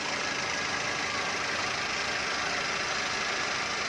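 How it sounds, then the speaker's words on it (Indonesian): A car engine, in a used car with faked mileage, idles smoothly and steadily with a dense, even hum that stays constant throughout, with no talk over it. "Ini yang paling nggak bisa ditipu ya, suara mesin."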